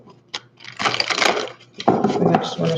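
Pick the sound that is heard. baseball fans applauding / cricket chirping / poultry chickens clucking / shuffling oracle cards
shuffling oracle cards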